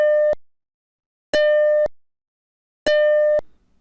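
Classic Macintosh System 3 alert beep: three identical short, loud tonal beeps spaced about a second and a half apart, each a clean sustained note with a sharp start and stop, with silence between.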